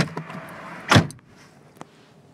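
A single car door thumps shut near the middle, preceded by faint rustling and followed by a small click.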